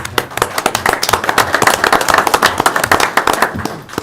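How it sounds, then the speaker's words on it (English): Applause fills a town council meeting, a dense crackle of many hands clapping steadily for several seconds, fairly loud and close, tapering slightly at the end. "So Anthony, thank you, and applause to you, sir."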